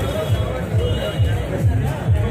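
Dense crowd hubbub at busy railway ticket counters, a continuous murmur of many overlapping voices close around, steady and fairly loud with no single speaker standing out.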